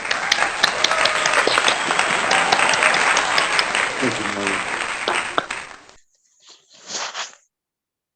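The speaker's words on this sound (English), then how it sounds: "show your appreciation via a round of applause" A round of applause from an online audience at a course recognition ceremony: dense, steady clapping for about six seconds that stops abruptly, followed by a brief spoken thanks.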